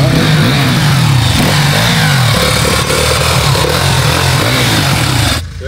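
Powerful motorcycle engine revving loudly and continuously, with rising and falling pitch swells throughout, close by and dominant until a sudden cutoff near the end.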